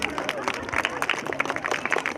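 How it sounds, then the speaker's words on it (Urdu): A crowd claps at a school annual event, a brief spell of moderate, fairly even clapping with some murmuring behind it. "نواز کے لیے کچھ تالیاں زیادہ بج رہی ہے"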